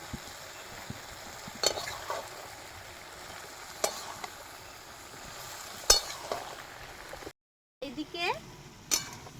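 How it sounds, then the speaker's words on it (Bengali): Cubed potatoes fry in a pan with rock salt for a fasting-day white potato curry, a soft steady sizzle running throughout, broken by a few sharp clinks of a spoon against the pan and a brief gap near the end. "আলুটা ভাজা ভাজা হতে থাক"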